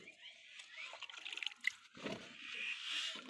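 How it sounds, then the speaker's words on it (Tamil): Water is ladled and poured into a pot of village-style horse gram curry, with close splashing and trickling that comes in short uneven bursts and swells louder toward the end. "கலவன தண்ணியை வந்து நம்ம குழம்புல அள்ளி ஊற்றிக்கலாங்க."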